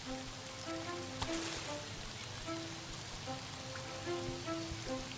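Steady rain patters throughout in the farming video game Cropdeck, faint and continuous. Quiet musical tones play over it, and no one speaks.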